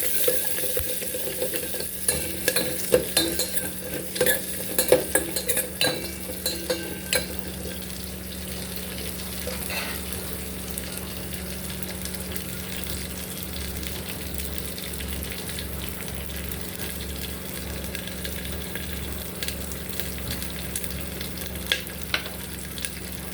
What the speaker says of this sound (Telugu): ఒక చిన్న ఆనియన్ అది కూడా కొంచెం వేగిన తర్వాత